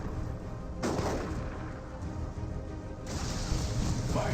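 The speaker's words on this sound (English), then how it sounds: "Oh, throws a horrible frag grenade there." A frag grenade goes off in a Dawn of War 2 battle, giving a sharp blast and then a rolling rumble, with further booming bursts of gunfire and artillery around it.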